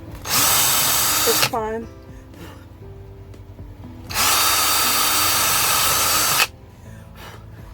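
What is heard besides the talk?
power drill drilling holes in a box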